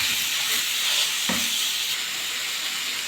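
Minced meat fries over onion with salt, pepper, ginger and paprika, a loud continuous close sizzle with a brief scrape of stirring partway through and no voices.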